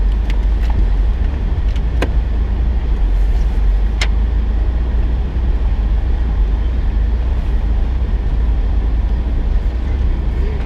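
Car driving along a rough 4x4 dirt track in a nature reserve, a steady loud low engine and road rumble throughout, with a few brief sharp knocks from the vehicle.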